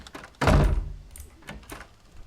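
A door swings open in a haunted house video game, giving a loud, close thunk followed by a short creaking rumble that fades as faint game ambience and small taps continue.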